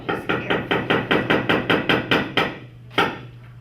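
Hammer blows on nails, about fourteen sharp, evenly spaced strikes in a quick close rhythm, a short pause, then one final blow, with no talking.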